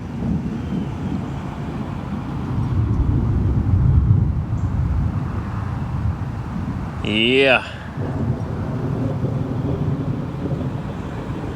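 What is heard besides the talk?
1953 Pontiac Chieftain straight-8 engine running rough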